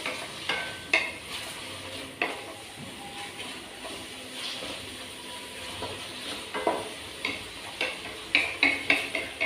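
Onions frying and being stirred in a home kitchen pan, a steady broadband sizzle running throughout with repeated sharp scraping and clinking transients from a utensil, close and moderately loud, no talking.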